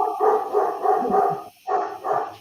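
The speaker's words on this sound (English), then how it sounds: "You hear those dogs?" Dogs bark in a rapid run of about five or six close, loud barks with a short pause before two more, with no talking over them.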